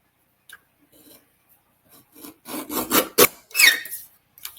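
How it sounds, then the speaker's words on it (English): A mini trimmer works over a piece in a run of close, scratchy rasping strokes that build from faint taps to louder rubbing, with no voices. "let me just grab my mini trimmer here"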